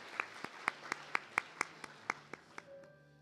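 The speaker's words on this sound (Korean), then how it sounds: "여러분 큰 박수 부탁드립니다." Sparse, slow clapping at the opening ceremony of an international education symposium, about a dozen distinct claps in an uneven rhythm, faint and distant in a quiet hall, no talk.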